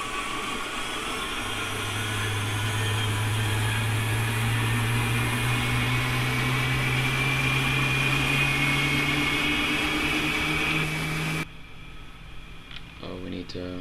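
Simulated aircraft engines, right and left, hum and whine in Project Flight Simulator as their pitch slowly rises, running steadily before cutting off abruptly near the end.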